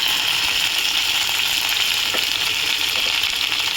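Okra frying in a pan with salt, a steady loud sizzle that holds continuously with slight stirring textures and no talk.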